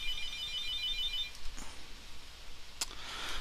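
A telephone rings on and off at eight in the morning, a faint electronic trill in short bursts with a sharp click near the end in an otherwise quiet room.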